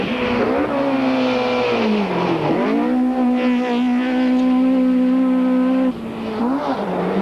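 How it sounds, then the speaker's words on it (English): Ford rally car in the 1992 Tour de Total, blasting past on a dusty dirt stage: a loud, close engine roar with rising and falling pitch as it sweeps by, continuous throughout. "van der Merwe's Ford blasts into sight"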